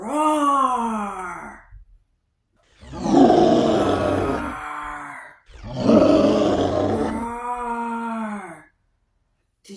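Three long, deep, drawn-out dinosaur roars rise and fade with short gaps of silence between them, loud and close, each with a rough, growling tone and no talk over them.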